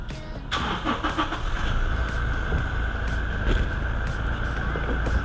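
A repaired Toyota Fortuner SUV engine cranks and starts with a sudden rise, then settles into a steady idle with a high whine over it, close and fairly loud.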